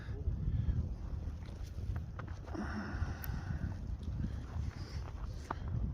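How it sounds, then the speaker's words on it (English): Strong wind buffets outdoors in a loud, continuous low roar with gusty fluctuations throughout and no voices. "That wind is kicking."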